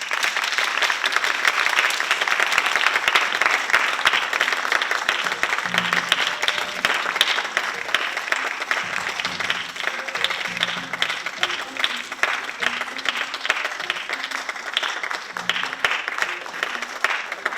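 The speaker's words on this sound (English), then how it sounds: "we want the audience to give them a round of applause" An audience gives a sustained round of applause for law enforcement officers at a panel on preventing school shootings, dense steady clapping with faint voices underneath.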